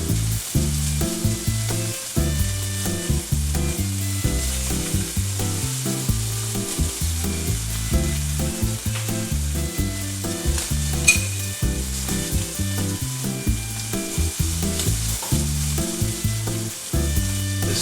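A flat iron steak sizzles loudly in a hot pan, a steady crackling fry with busy, rhythmic stirring or scraping pulses running throughout, close and alone with no talk.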